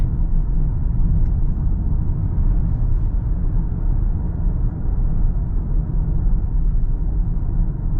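Inside a 2025 Toyota Camry hybrid cruising on electric power alone: a steady low road rumble and tire noise fill the cabin continuously, with no engine note and no voices.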